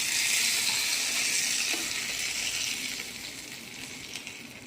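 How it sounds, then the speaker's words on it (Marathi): Hot curry-leaf tempering hisses and sizzles loudly as it hits the chutney, then gradually settles into a softer, steady crackle. "आपण ही सर्व फोडणी आपल्या चटणीवर टाकून घ्यायची"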